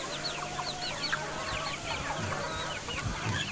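Desi village hens and young chickens let out into a netted backyard run in Antravali, Konkan, keep up a steady chorus of clucks and short chirps nearby, with scuffling and a few lower calls toward the end.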